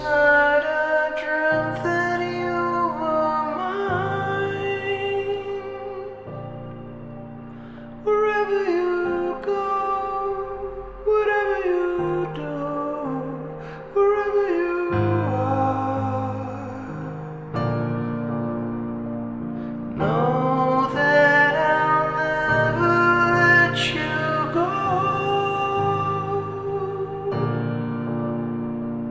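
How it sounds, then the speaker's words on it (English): Live vocals run through an MPC with Air Delay Pro and Air Reverb Pro form a continuous wash of layered, echoing notes with deep bass underneath, steady and full for half a minute. "what you just heard was the MPC running live vocals and processing them through the"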